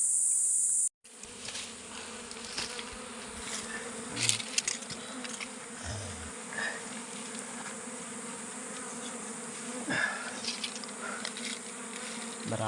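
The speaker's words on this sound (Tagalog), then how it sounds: "Maraming mga bubuyog mga ka-idol." A swarm of bees drones steadily and densely throughout, close by in hot weather, with individual insects buzzing louder as they pass near, and no voices.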